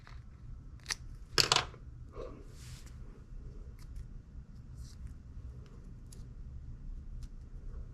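Scissors snip a small patch of bucktail hair for a fishing jig, a couple of sharp close cuts and a crisp crunchy burst early on, followed by quiet scattered clicks over low background hum.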